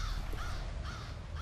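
A crow caws twice in the video game F.E.A.R., two rasping calls set against a low ambient rumble, moderately distant, with no voices.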